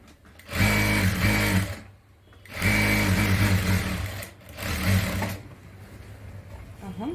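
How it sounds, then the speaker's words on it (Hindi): Sewing machine stitching a blouse, three loud, close bursts of rapid mechanical whirring separated by short pauses, the last burst shorter and quieter. "अब हम 1/4 में भी सिलाई लगा देते हैं।"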